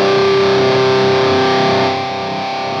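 An electric guitar played through a Digitech DF-7 Distortion Factory pedal on its Metal Zone setting rings out as a loud, heavily saturated sustained chord that fades somewhat toward the end.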